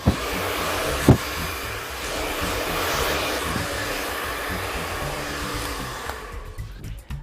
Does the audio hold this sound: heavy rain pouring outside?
no